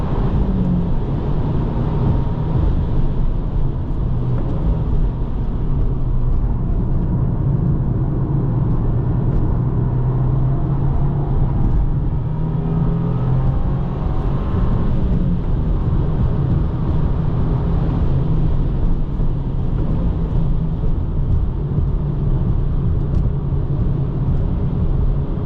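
Steady loud engine drone and road roar from a 2025 Subaru WRX tS driven on a race track, heard from inside the cabin, continuous with slight rises and dips in pitch.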